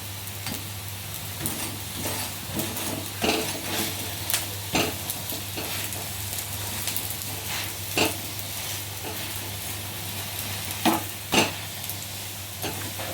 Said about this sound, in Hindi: इसे हम थोड़ा थोड़ा पलटते हुए ऑयल लगा के सेक लेंगे